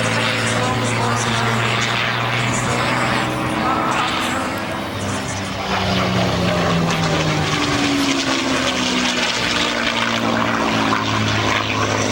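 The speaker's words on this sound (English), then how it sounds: "take the Mustang into the vertical for the Cuban 8" A P-51 Mustang propeller fighter pulls into the vertical for a Cuban 8 at a night airshow, its loud droning piston engine roaring steadily with shifting pitch throughout, while a commentator talks over the PA.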